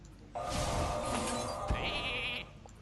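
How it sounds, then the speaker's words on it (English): A sheep bleats in the Hearthstone card game, one drawn-out wavering call of about two seconds, clear and alone over faint game background. "I really need a sheep right now."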